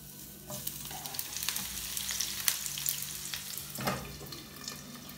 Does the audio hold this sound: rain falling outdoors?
no